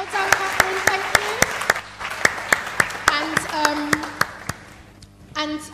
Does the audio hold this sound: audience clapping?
yes